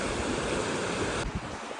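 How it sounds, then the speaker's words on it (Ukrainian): A river swollen after heavy rains rushes steadily outdoors, a dense, loud, unbroken roar of flowing water. "Це у нас були дощі і така річка сильно стала."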